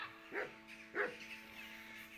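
Dog in the video game Kingdom Come Deliverance 2 gives two quiet, distinct barks about half a second apart over a faint steady background hum.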